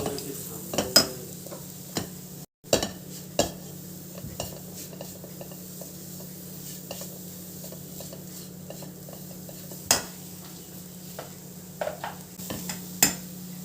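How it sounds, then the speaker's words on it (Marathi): Grated fresh coconut stirred and roasted in a spoonful of ghee in a pan, giving a steady soft sizzle under repeated scraping and clinking strokes of a spoon against the pan, close and fairly quiet, with no talking. "एक चमचा तूप घालून घेतलेला आहे आणि हे आपण दीड वाटी ओल्या खोबऱ्याचा किस घेतलेला आहे तर तो छान असा परतून घेऊया"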